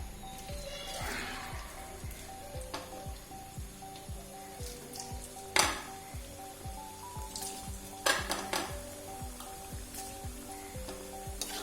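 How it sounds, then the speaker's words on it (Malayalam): Potato strips for French fries fry in hot oil over a medium flame, giving a steady, rain-like crackle and fizz up close, with a few louder pops rising above the bubbling. "മീഡിയം ഫ്ലെയിമിലിട്ട് ഒരു 3-4 മിനിറ്റ് ഒന്ന് ഫ്രൈ ചെയ്തെടുക്കുക."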